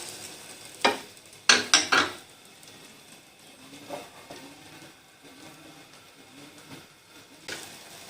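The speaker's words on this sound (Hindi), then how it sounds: "स्लाइस लूंगी, अंडे वाले बैटर में डिप करूंगी और इसको पैन में रख दूंगी" Slices of bread dipped in egg batter are laid into a hot pan, with a few sharp close clatters early on, then a low steady sizzle of frying running underneath, without speech.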